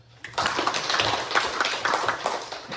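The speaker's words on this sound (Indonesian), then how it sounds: "Kita berikan tepuk tangan." An audience at a school presentation on positive culture clapping their hands, a short burst of moderately dense claps starting abruptly and continuing steadily, with a faint voice underneath.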